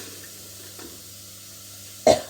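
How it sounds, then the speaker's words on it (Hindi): After a stretch of quiet kitchen background, with spices being tempered in hot oil, a single sharp cough bursts out near the end. "तड़का लग रहा है, इसलिए हल्की सी खांसी आ रही है।"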